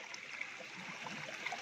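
Cold water gushing from a pipe at a training camp water point, a faint, continuous trickling and gurgling flow, steady and unbroken throughout, with no voices.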